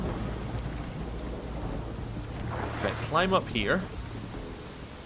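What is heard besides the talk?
rain and thunder in video game The Witcher 3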